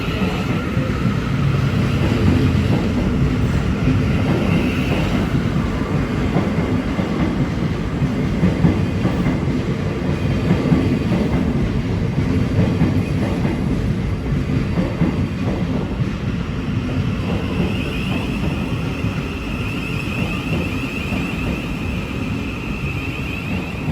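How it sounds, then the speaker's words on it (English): A Thameslink class 700 train pulls into a London terminus, a steady loud rumble with faint wheel clatter lasting throughout and no voices. "Incoming now is the 1027 Thameslink service from Three Bridges to Bedford, led by 700"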